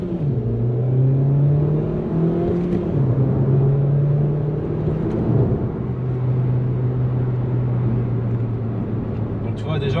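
A Nissan Juke Nismo in sport mode accelerating with its turbo engaging, a loud steady engine drone heard from inside the cabin as revs climb and shift, with people talking over it.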